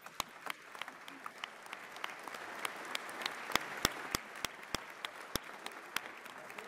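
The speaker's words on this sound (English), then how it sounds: "Clap twice if you agree." Scattered audience clapping at a state address, a steady patter of many hands with sharper individual claps standing out, moderate in level and continuing throughout rather than forming two distinct claps.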